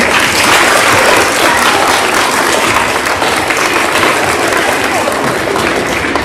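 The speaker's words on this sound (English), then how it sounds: "give yourself a big round of applause too" A loud, dense round of audience applause at the 2024 Battle of the Books contest, steady and sustained throughout with crowd noise mixed in.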